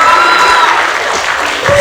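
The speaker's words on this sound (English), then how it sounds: "she definitely needs another round of applause" Audience at a dance recital felicitation applauds in a dense, steady roar of clapping, with faint whistling tones and crowd noise mixed in.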